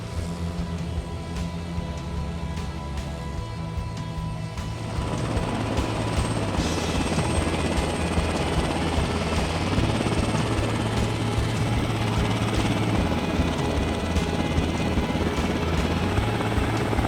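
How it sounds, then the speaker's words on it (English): Helicopter rotor thudding steadily in the background near an airfield after a small plane lands, growing louder partway through and holding as a continuous, fairly loud drone with no talk. "We got a helicopter in the background, so it's a little bit loud."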